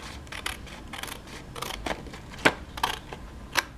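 Scissors make several crisp snipping cuts through paper, close and fairly quiet, with short irregular pauses between the cuts.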